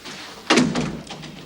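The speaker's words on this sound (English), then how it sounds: "Yes, close the door, would you?" A door swings shut in a prison office with one firm thud near the middle, followed by a short rattle and a soft settling knock, with quiet room tone before and after.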